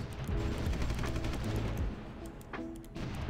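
Artillery bombards from long range in Supreme Ruler Ultimate: a steady rolling barrage of distant thuds and rapid firing, with a brief louder crack late on and no talk.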